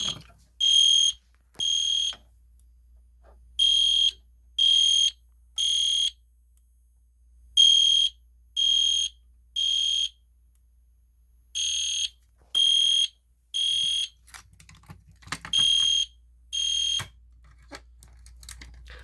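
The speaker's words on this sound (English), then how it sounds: "the Est Genesis horn strobe, that sounds like a cricket, a little bit." EST Genesis horn strobe fire alarm pulsing in a steady pattern of short, high, chirpy bursts in groups, clear and fairly near in an otherwise quiet room.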